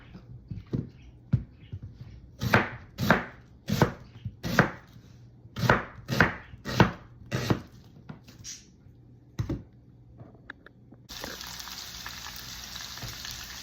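Onions being chopped on a cutting board, a steady series of about a dozen sharp knife strikes in rhythmic clusters, close and clear, followed by a hissing sizzle of frying.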